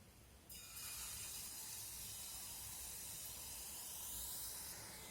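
Jalebi batter hitting hot oil in a kitchen sets off a loud, steady sizzling hiss that begins abruptly and holds strong and even throughout, with no voices over it.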